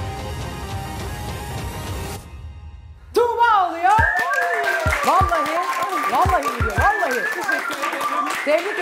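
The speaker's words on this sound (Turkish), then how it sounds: "Alkışlarınızla." A studio audience claps for the week's winner on a Turkish cooking competition show; the applause comes in loud and sustained after a brief musical sting and a short pause, with a voice briefly over it.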